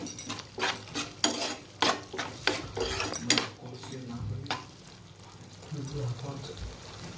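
Macaroni pasta is stirred with vinegar in a pan, a spoon scraping and clacking in quick strokes up close, fading to a softer sizzle under a speaking voice.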